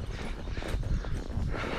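Hooves clip-clop steadily on the ground as a horse walks close by, with no talking.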